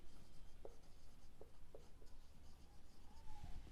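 A pen writes a furniture account journal entry on paper, soft scratchy strokes in short bursts, close and faint beneath a steady background hiss.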